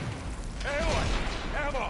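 Robotic machine creature in Horizon Forbidden West: two rising-and-falling metallic electronic whines, about a second apart, over a dense mechanical rumble, near and moderately loud.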